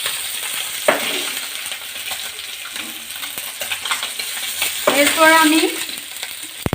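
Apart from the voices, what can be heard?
koral fish frying in oil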